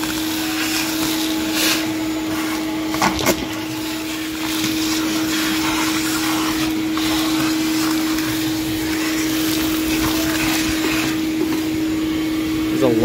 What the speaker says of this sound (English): I'm gonna go grab the vacuum quick.